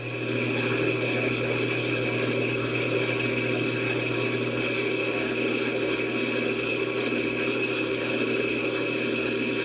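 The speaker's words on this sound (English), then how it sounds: "So this tool helps us polish the inside of the lens." A contact lens polishing tool spins a soft foam cone coated with polishing agent, giving a steady, continuous mechanical whir with a faint rhythmic pulse that holds at an even level throughout.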